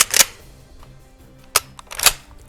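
A Mossberg Maverick 88 pump shotgun fires at a shooting range, three sharp, cracking reports, one at the start and two close together near the end, with quiet gaps between.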